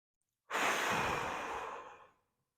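A single deep, drawn-out exhale during a quad and hip flexor stretch in a spine rehab routine, close and soft, rising quickly and tapering off over about two seconds with no talk.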